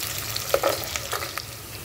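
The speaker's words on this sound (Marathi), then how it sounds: "ब्राउनिश करायचा कांदा, करपवायचा नाही, ब्राउनिश।" Onions frying in oil until brownish for veg biryani, a steady hiss of sizzling with a few light stirring clicks, close and brief.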